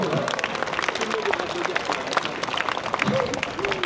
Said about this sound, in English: Everybody should be clapping, by the way.